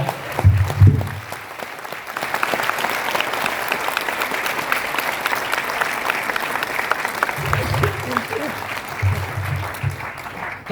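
A seminar audience applauds in a hall, a dense steady wash of many hands clapping for about ten seconds, with thumping low bursts near the start and end.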